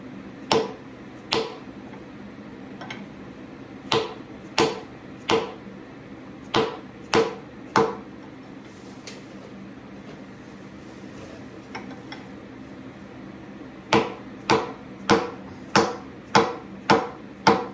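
Seal being driven into a 1985 Jeep CJ7 AMC 20 axle housing with an installer tool, sharp hammer taps in quick bursts of several strikes, a quiet pause in the middle, then a rapid run of evenly spaced blows, close and loud.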